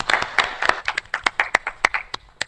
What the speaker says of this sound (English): Let's have a round of applause for all of us.